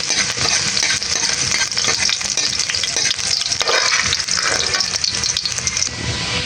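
Garlic sautés in a hot pan as the base for squid adobo, a loud, close, steady sizzle and crackle of frying with stirring clatter throughout.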